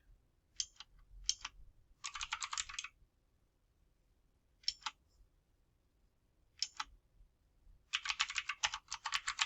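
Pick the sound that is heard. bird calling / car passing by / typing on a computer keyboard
typing on a computer keyboard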